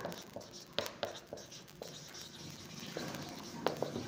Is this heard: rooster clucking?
no